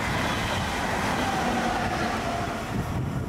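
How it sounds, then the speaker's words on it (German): An Austrian Railjet train rumbles at a station platform, a loud, steady, close rolling roar with faint metallic squeal that holds throughout without speech. "fahren nach Wien mit dem Zug, dem Railjet"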